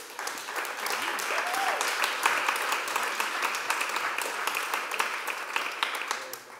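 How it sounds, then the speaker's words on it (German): A conference audience applauds steadily throughout, dense clapping from many hands at a fairly even loudness with no pause. "Ein großer Applaus"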